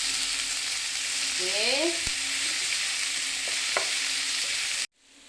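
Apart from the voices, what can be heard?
papaya being added and stirred in a pan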